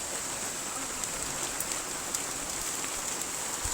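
Heavy rain falls steadily in a rural Gujarat setting, a dense, even hiss of drops striking surfaces with a few sharper splashes, continuous and moderately distant, with no speech.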